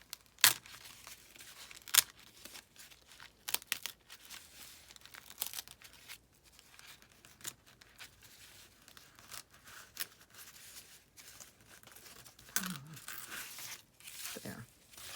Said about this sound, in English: Let me just try ripping this again